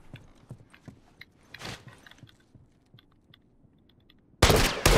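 Gunfire in The Last of Us Remastered: scattered sharp shots and mechanical clicks at low level, a brief muffled burst in the middle, then a sudden loud blast of noise near the end.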